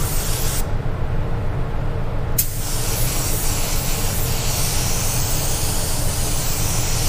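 A spray gun lays light coats of paint onto a panel, producing a loud, continuous airy hiss. The hiss thins out briefly near the start and then runs steadily to the end.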